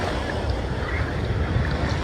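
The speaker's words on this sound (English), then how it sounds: "And the waves are really crazy." Ocean surf crashing on a beach, a continuous roar of breaking waves mixed with heavy wind buffeting the microphone, loud and close throughout.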